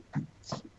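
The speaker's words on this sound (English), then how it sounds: "I'm going to close the door because my dogs are going crazy here" Excited pet dogs whimper and snort nearby in a home, two short whiny bursts with quiet breathing between them.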